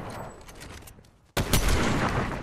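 Fortnite gunfire erupts suddenly after a short lull, a loud dense burst of rapid shots following fainter crackling earlier on.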